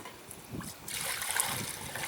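Liquid pours steadily into a stainless steel container of brass cases nearby, a soft gurgling splash that grows fuller after a brief trickle.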